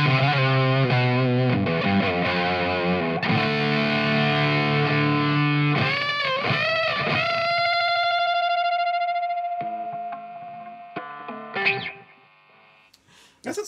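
An electric guitar through a Valco KGB fuzz pedal plays a fuzzy, saturated riff, then sustained and bent notes ring out and fade, with scattered quieter notes toward the end.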